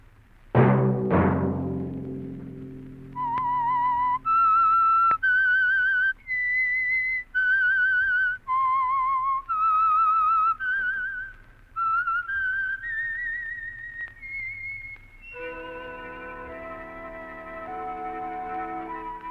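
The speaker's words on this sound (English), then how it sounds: "Let that whistle be your signal for the Signal Oil program, The Whistler" A solo human whistler carries the eerie theme of The Whistler radio drama, a series of sustained, clear melodic notes in a rising and falling phrase, loud and alone, with a low bell-like chime at the start and a sustained chord at the end.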